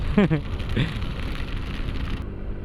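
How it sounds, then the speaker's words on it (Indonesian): Heavy rain falling during a motorcycle tour, a dense steady hiss heard close, with a brief voice near the start and wind noise underneath. "hujannya deras lagi"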